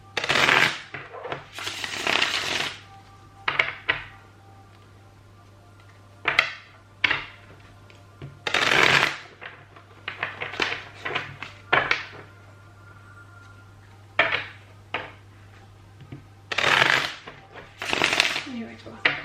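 Tarot cards being shuffled by hand, repeated bursts of riffling and slapping cards in irregular clusters, close and crisp, with quiet pauses between bouts.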